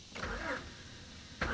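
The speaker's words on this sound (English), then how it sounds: "Let's listen to the engine." An old Honda car's starter whirs briefly with a slight hesitation, then cuts off, and a second start attempt begins near the end; faint and close, with no one talking.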